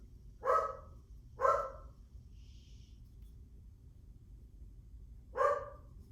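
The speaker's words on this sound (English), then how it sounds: "And there goes the dog for today." A dog barks three times: two sharp barks about a second apart, then a single bark after a pause, all over a low steady background hum.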